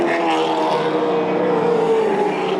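Supercar Challenge race cars at Spa-Francorchamps plunging down through Eau Rouge, a loud sustained engine roar with a steady high pitch that slowly shifts, close and continuous.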